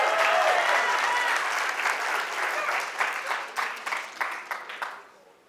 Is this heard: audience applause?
yes